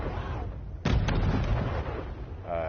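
A loud explosion bursts out in a PS4 strategy video game modeled on Warcraft 2, with a sharp onset and a rumbling decay over steady background game sound.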